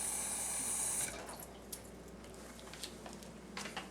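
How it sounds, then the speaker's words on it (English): Water runs steadily from a tap during cleaning, starting as a loud hiss that drops to a quieter flow with scattered splashes and drips. "So I'm going to turn the water on, count to 10."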